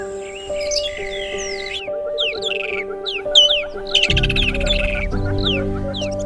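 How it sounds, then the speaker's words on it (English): Several birds chirping and singing close by, with bright trilling phrases, quick repeated tweets and a few harsher squawks overlapping. A loud, rich chorus builds in the second half over a low background. "Birds, they're all around us."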